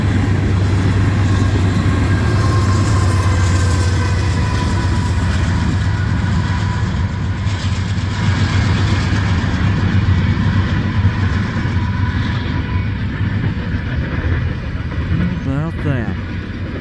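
CN freight train led by C6M rebuild locomotive 3311 rolling southbound past Ladysmith, a steady loud rumble with low engine drone and wheel noise throughout, no pause in the passing.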